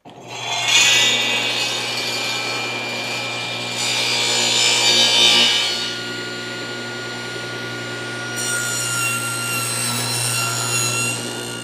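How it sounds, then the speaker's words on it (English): A table saw rips 2x4 boards lengthwise, a loud close, continuous roaring cut that swells and eases across several passes, with a steady motor hum underneath and no talk. "let's get to ripping these down"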